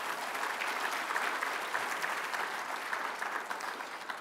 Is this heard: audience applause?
yes